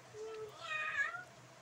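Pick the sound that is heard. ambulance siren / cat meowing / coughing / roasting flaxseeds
cat meowing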